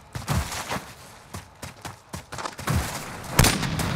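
Gunfire in a 1v1 video game match, a series of sharp irregular shots with thumping low impacts, close and punchy, one louder blast near the end, no talk.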